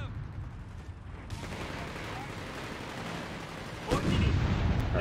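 Mortar strikes and gunfire in the Company of Heroes 3 Africa campaign: a dense, continuous rumble of battle with a heavy blast near the end, while game voices chatter underneath.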